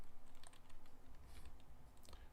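Typing on a computer keyboard during an online music jam session produces faint, quick clicking keystrokes in irregular bursts over a low background hum, with no talking.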